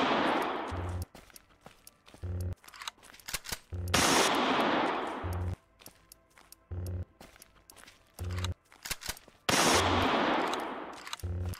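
In the video game Last Village, a gun fires many bullets in repeated long bursts of rapid automatic fire, loud and close, separated by short gaps with footsteps and quieter action sounds.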